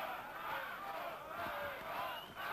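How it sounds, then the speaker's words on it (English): Arena crowd at a heavyweight boxing bout roars in support of German champion Markus Bott, a distant, sustained wash of cheering and shouting that stays fairly faint throughout. "The crowd trying to get behind Bott."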